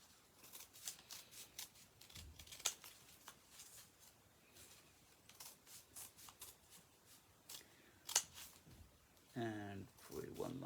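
Scissors snip through paper tassels while flowersticks are being made: scattered crisp cuts and light paper rustling, close by, with a soft snipping flurry near the end.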